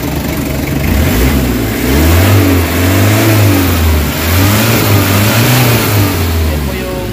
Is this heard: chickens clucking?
no